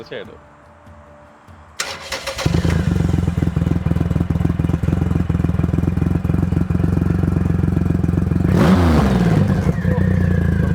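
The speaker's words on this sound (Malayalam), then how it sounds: "നമുക്ക് ഒരു 2300cc എഞ്ചിൻ ഫയർ അപ്പ് ചെയ്യുന്നതിന്റെ സൗണ്ട് കേൾക്കാം" A Triumph Rocket 3 Touring's 2300cc engine cranks and fires up after a quiet start, then settles into a loud, deep, steady idle that swells with a blip of revs toward the end.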